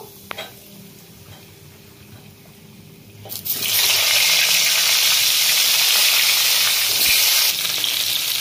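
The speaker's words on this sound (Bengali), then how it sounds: "পটলগুলো আমি ভেজে নেব।" Pointed gourds (potol) drop into a hot kadai and burst into loud, steady hissing sizzle after a few quiet seconds of faint kitchen noise, holding strong to the end.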